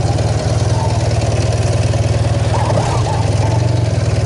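A 1988 Honda VF750C Super Magna motorcycle engine idles steadily up close, a loud, even low throb with a slight rise in revs midway, no talk over it.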